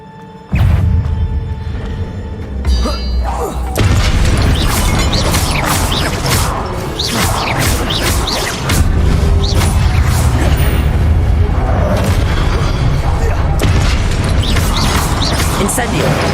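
Spell explosions going off in the Hogwarts Legacy video game, repeated bursts and crashes over a dense, steady mix of magical combat and game music, with voices talking throughout.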